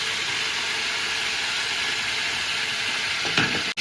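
Cinnamon, cloves, cardamom and green chillies fry in sunflower oil for kuzhimanthi, giving a steady, dense sizzle that holds evenly throughout, with a brief stir near the end.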